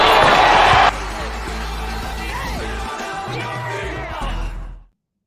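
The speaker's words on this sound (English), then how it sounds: "And the crowd goes crazy." Crowd cheering sound effect, a loud roar of cheers and whoops with some deeper shouts, ending abruptly after a few seconds.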